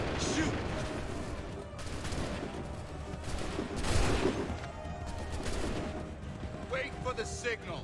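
Musket volleys crackle in a battle scene from Assassin's Creed 3, with repeated bursts of gunfire under shouted commands and voices.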